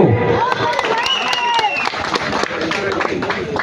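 A crowd applauds at a temple consecration festival in Ganjam, a brief burst of steady clapping that tapers off while an announcer talks over it.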